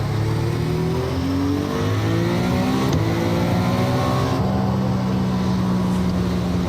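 Acura ARX06 prototype race car in iRacing at Hockenheim, its engine note climbing steadily through the gears with rising harmonic sweeps and a brief shift near the middle, loud and continuous with no talk.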